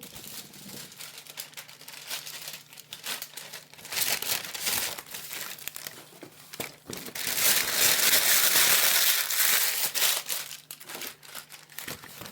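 Recipe paper crumpled by hand in a home kitchen, a long, loud crackling rustle that surges twice, with the second burst being the fullest and longest.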